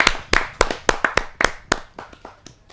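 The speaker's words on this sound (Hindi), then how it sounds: "ऐसे अनूठे कवि को मैं जोरदार तालियों के साथ अभिनंदन करते हुए स्वागत करता हूं" Sharp, separate hand claps from a small audience at a Hindi poetry gathering, fairly loud and close, starting as a quick rhythmic burst and thinning into scattered, fading claps.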